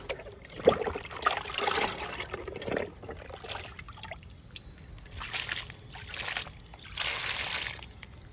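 Aloe vera liquid is poured onto potted plants, including a jasmine, in several quiet, close trickles and splashes separated by short pauses.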